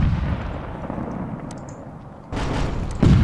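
Cannon fire in the Rise of Liberty Battle of Bunker Hill game: a low rumbling boom fades out, then two sharp, loud blasts hit close together near the end against battlefield noise.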